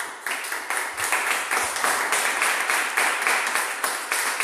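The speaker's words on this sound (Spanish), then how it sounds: "¿Cuántos pueden darle un aplauso al Señor" A church congregation claps in praise during a service, a loud, close burst of applause that settles into a rhythmic, pulsing beat of unified clapping.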